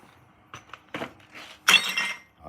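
An old turbo core from a Land Rover Defender 2.2 TDCi tossed into a bin, a few scattered clunks and knocks building to a sharp metallic crash and rattle near the end.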